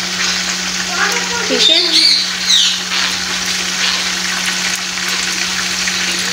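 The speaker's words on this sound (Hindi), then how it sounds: "अभी मैंने जो चिकन है उसको मैं फ्राई कर रही हूँ, लाइट ब्राउन करूँगी।" Chicken pieces sizzle steadily in a pan while being browned, a continuous close frying hiss with a low hum underneath and a short bit of speech partway through.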